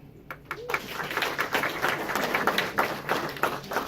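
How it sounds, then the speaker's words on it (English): Comedy club audience breaks into clapping after a quiet pause, a burst of many hands that builds quickly and stays steady and fairly close, with some scattered cheers mixed in. "Clap if you think no."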